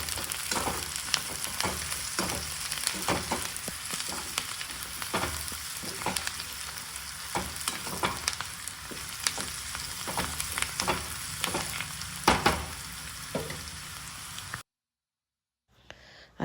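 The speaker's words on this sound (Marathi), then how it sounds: "आता तो छान भाज्यांमध्ये मिक्स करून घेऊयात." Mixed vegetables for fried rice sizzle and crackle in a hot pan while being stirred, with steady frying noise and repeated scraping strokes, close and moderately loud, then a sudden drop to near silence at the end.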